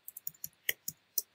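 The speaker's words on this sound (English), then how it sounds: "So type in your unique username" Computer keyboard keys tapped while a username is entered, about seven separate clicks in an uneven rhythm, close and fairly quiet with no voices.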